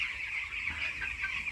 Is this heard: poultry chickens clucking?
yes